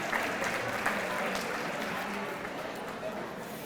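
Gala audience at a children's charity anniversary event applauds the De Tierra Caliente performers, a continuous crowd of hands clapping in a large room, fairly even in loudness with a murmur of voices mixed in.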